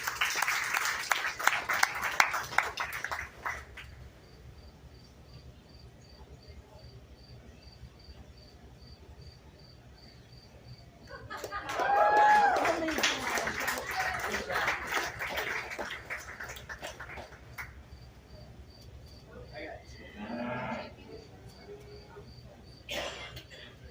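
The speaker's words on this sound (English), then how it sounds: "let's give the exhibitors one last round of applause, please" Applause from a county fair audience for 4-H and FFA beef show exhibitors, a burst of clapping in the middle between quieter stretches with insect chirping steady in the background.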